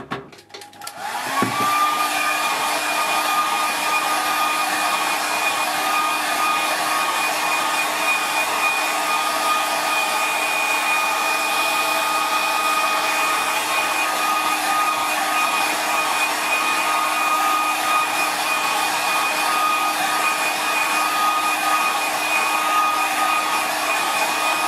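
A hair dryer switches on and runs at a steady, loud whir for over twenty seconds, blowing close over a watercolour painting to dry the wet paint, with no talking.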